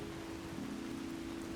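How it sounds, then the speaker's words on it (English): Light rain in a Skyrim Special Edition weather mod, a soft, steady hiss of falling drops at low volume under a faint tonal hum. "the rain there is a lot lighter than on Obsidian"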